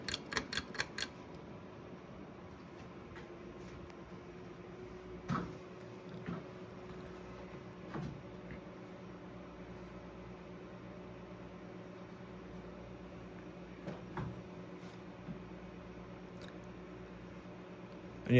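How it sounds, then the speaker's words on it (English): A Hunter Preference ceiling fan with a light kit winds down after being switched off, leaving a very faint, low steady hum with a few soft clicks and ticks scattered through the quiet. "But we'll take it to spin down now."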